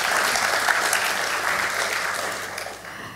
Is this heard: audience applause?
yes